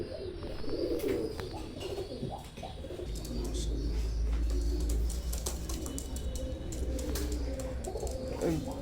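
Oman teddy pigeons, a pure-bred pair kept for sale, coo in a low steady murmur close by, with soft chirps and rustling over a constant low hum.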